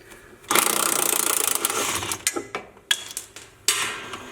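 Impact wrench working a sway bar link loose at the top on a Jeep JLU during a Clayton Offroad 2.5-inch lift kit install, a loud buzzing rattle for about a second, then several shorter stuttering bursts close by.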